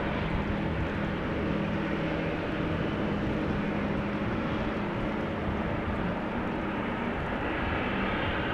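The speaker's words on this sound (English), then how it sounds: "A350LA take off, probably back to Atlanta where it came from" An Airbus A350 takes off at Amsterdam Schiphol Airport in drizzle, a loud steady roar of jet engines that holds evenly throughout with a slight shift near the end.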